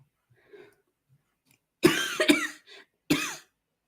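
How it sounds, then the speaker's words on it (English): Three sharp coughs from one person sound up close in a quiet room, two in quick succession and then one more after a short pause, with faint breathing before them. "Oh no, am I really going to start coughing?"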